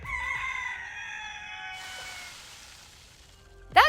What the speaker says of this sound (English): you can hear the crow of a rooster followed by disintegration noises